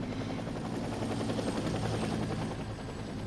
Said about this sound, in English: We can hear the gentle sounds of a helicopter whizzing by.